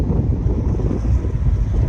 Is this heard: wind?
yes